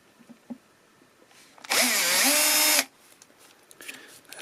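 A power drill with a bit bores into a crystal ball in a single loud, whining burst of about a second, with quiet handling noise before and after.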